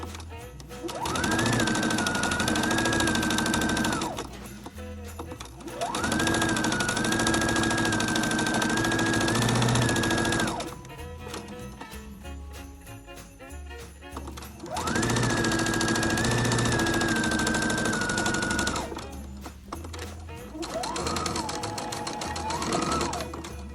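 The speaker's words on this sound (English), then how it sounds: "Do not run over it with your sewing machine." A sewing machine stitches Christmas tree napkins in loud, rapid bursts of several seconds each, stopping and restarting between runs as the fabric is pivoted.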